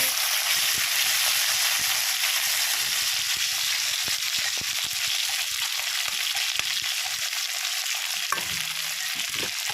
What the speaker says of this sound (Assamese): এতিয়া আলুখিনি মই ইয়াতে ভাজি ল'ম ভালকৈ।